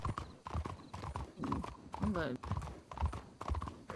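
Horses galloping in a training run, a steady rush of hoofbeats with a whinny in the middle, while someone talks over them throughout.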